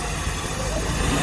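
Burrell steam road locomotive rolling past in a rally parade, a steady low rumble with hiss filling the short moment at close range.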